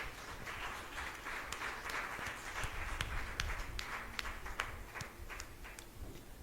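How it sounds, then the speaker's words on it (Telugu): A church congregation claps hands at a healing service, a dense continuous patter of many hands with sharper individual claps standing out, fairly distant and even throughout. "అవును అనుకున్న వాళ్ళు మాత్రం చప్పట్లు కొట్టండి"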